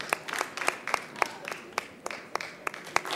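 An audience claps at a live show, steady scattered applause with sharp individual claps, fairly close and continuous without talk.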